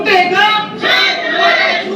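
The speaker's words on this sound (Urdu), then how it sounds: "یہ جی نعرے بازی ہوتی رہی ہے." A crowd of party workers chants slogans outside Adiala jail, loud and close, with voices rising and falling in repeated surging phrases.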